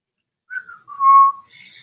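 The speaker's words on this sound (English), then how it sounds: "Whistle, whistle, whistle." A person whistles a few short tones, a brief note, a longer steady higher note, then a faint higher trill, alone against silence.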